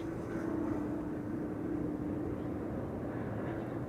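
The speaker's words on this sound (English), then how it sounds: "And number 190 landing over here." An Embraer 190 airliner coming in to land at Amsterdam Schiphol, heard as a steady, distant engine roar with a broad rumbling wash that holds even throughout, with no talking.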